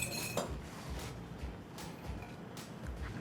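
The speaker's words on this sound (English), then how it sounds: "Just mix everything together so that the apples don't get brown." Apple matchsticks are tossed with lemon juice and sugar in a bowl, with soft repeated clinks and scrapes of a utensil against the dish in a quick uneven rhythm, quiet and close.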